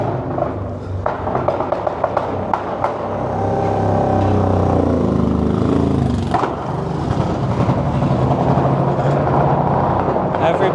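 A motorcycle modified to sound like gunfire rips off several sharp, loud cracks in quick succession, then settles into a sustained, rumbling engine roar on a street near the 1858 Patee House Museum in St. Joseph, Missouri.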